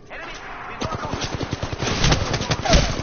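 Rapid bursts of video game gunfire crackle in a fast, repeating rhythm, fairly loud and close, with a voice talking over part of it.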